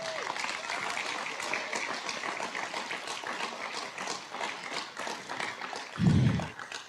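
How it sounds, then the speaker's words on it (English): Graduation ceremony audience applauding, a full room of steady clapping at even loudness for several seconds, ending with a few low thumps near the close. "would you please give me one more round of applause?"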